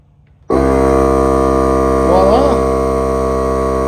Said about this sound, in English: Let's fire up the Milwaukee compressor.